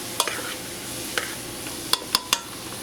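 Vegetables for an asparagus and sweet potato soup cook in a pot, a soft steady sizzle with a few sharp clinks of a spoon stirring against the pot, close and without talk.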